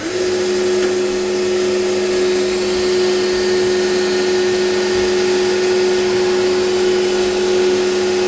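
A US Concepts FAS-101 arch moulder whirs at a steady, loud pitch with a constant motor hum and no change in speed.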